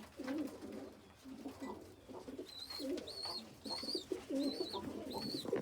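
A bird at a garden feeder gives repeated soft cooing calls close by, mixed with brief higher chirps, fairly quiet and without talk.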